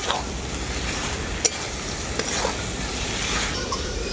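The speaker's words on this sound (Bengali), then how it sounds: "এঁচোড়টাকেও আমি খুব ভালো করে কষিয়ে নেব" Fried young jackfruit sautéed with spices in a pan, giving a steady low sizzle with occasional faint scrapes of stirring throughout.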